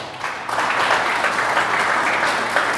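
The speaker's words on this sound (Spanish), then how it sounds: "Denle un aplauso a Jesús." Church congregation applauding together, a steady wash of clapping that swells after a brief pause and holds evenly, fairly close and without talk.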